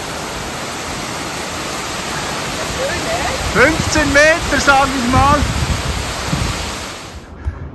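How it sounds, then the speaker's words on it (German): A waterfall in Kyrgyzstan, about 15 meters high and reached on horseback, gives a steady, dense roar that fills the clip. Someone talks briefly over it before the sound cuts off near the end. "Und das ist denn nun unser Wasserfall."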